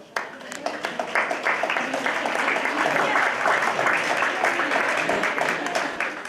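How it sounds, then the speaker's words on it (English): Applause from the audience at a Vietnam Veterans Day gathering, a steady wash of clapping that lasts the whole stretch at moderate loudness, with faint voices mixed in. "Give these ladies a round of applause."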